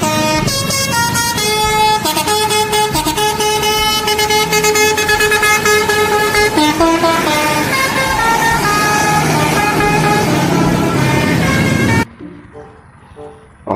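A Laju Prima bus sounds a loud, sustained, tuneful multi-tone horn nearly nonstop as it passes close by, then cuts off abruptly, leaving quiet road ambience.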